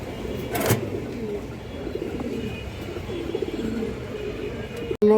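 Pigeons cooing at a pigeon sale: low, soft, rounded coos repeat close by over a murmuring background, with a sharp bang at the end.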